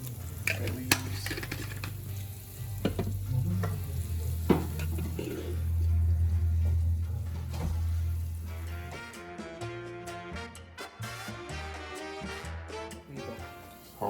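Oil with garlic, salt and other seasonings plus bay leaves frying in a pot for homemade Spanish rice, a steady sizzle with occasional stirring and pan clinks, growing busier near the end.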